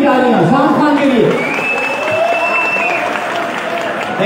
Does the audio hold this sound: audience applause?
yes